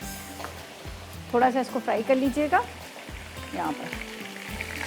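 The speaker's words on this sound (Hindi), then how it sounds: "हल्का सा चिकन को मैं फ्राई कर लेती हूँ।" Chicken fries in a pan with spices for a hara masala dish, giving a steady close sizzle throughout while someone talks briefly over it.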